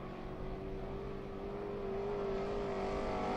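360 sprint race cars roar down the backstretch in a steady, droning engine note that holds and slowly swells, heard from a distance across the track without voices.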